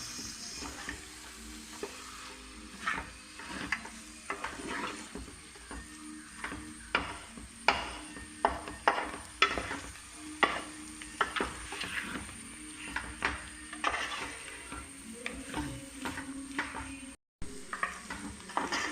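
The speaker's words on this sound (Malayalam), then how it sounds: "ശരിക്കും ഇറച്ചി ഈ മസാല പിടിക്കുന്ന രീതിയിൽ ഇളക്കണം." Chicken pieces get stirred into masala in a pan for a Kerala-style chicken curry: soft sizzling under repeated clicking and scraping of a utensil against the pan, fairly quiet and uneven, with a brief dropout near the end.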